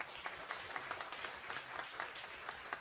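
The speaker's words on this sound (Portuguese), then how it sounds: "uma salva de palmas para ela" Faint but steady audience applause at a public hearing in a Brazilian assembly hall, dense overlapping claps forming an even, sustained patter.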